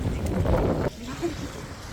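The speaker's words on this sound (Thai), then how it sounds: "ลมแรงมากนะคะทุกคน" Strong wind buffets a handheld microphone on a street in Bern, Switzerland, with a loud, rumbling roar for about a second that drops off abruptly, leaving quieter gusts behind someone talking.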